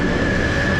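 London Overground Class 710 electric train arriving at a station platform, a steady loud rumble of wheels and motors with a sustained whine, continuous and close throughout.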